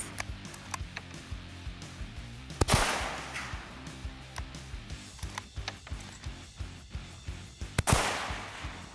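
Bolt-action rifle shots at a shooting range, heard as two sharp, loud cracks several seconds apart, with quieter ticking and clicking between them.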